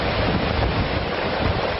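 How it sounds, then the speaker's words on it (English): Hurricane Dorian's wind gusts roar across the Bahamas in a loud, continuous rush of wind and surf-like noise that fills the whole stretch without pause. "Wind gusts breaking"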